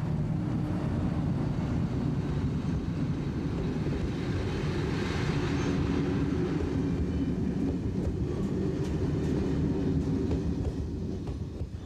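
A holiday passenger train of Belgian I-design international coaches, hauled by a Belgian Class 25.5 electric locomotive, rumbles past in a loud, continuous roar with faint rhythmic wheel clatter, steady throughout before easing slightly at the end.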